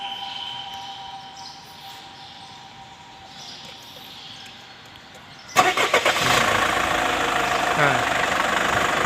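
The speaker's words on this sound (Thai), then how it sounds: "เดี๋ยวรบกวนสตาร์ทเครื่องหน่อย นะฮะเดี๋ยวชมเสียงเครื่องกันนะครับ" A Mercedes-Benz E220 diesel engine cranks and catches after a quiet stretch, then settles into a loud, steady, rattling idle up close.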